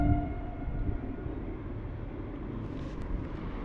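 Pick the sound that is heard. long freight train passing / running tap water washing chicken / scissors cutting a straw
long freight train passing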